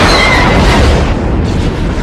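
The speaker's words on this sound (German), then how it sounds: "Das Schiff ist explodiert." A starship blows up in a Star Wars radio drama, a loud, sustained, rumbling boom that fills the clip with dense roaring noise and no talk.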